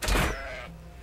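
A sheep bleats once in ARK, a short wavering cry that fades into a dull thud and low rumble, loud and close.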